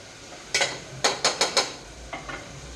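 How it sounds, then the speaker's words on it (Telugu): Onions with salt being stirred in a pan, a series of short scraping, clinking strokes of a spoon against the metal, close and fairly quiet over a faint sizzle. "మంచిగా కలపండి."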